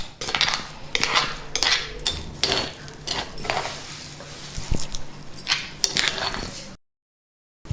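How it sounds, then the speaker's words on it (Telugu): Ground amla chutney (usirikaya roti pachadi) is scooped into a bowl, with repeated metal spoon clinks and scrapes against the dish in an irregular rhythm, close and moderately loud, before the sound cuts off. "దీన్ని ఒక బౌల్లోకి తీసేసుకుందాం."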